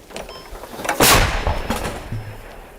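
A single heavy artillery blast from a captured Russian gun booms loudly and rolls away in a long rumbling echo.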